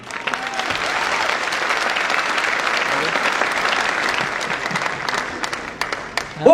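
An audience claps steadily inside Talkatora Stadium in New Delhi during a closing talk, with dense applause holding level throughout and a brief louder burst at the very end.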